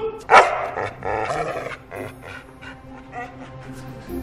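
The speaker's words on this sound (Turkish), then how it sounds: "Hav hav hav hav hav hav hav" A dog barks close by, one loud sharp bark followed by a run of quicker, softer barks and yips.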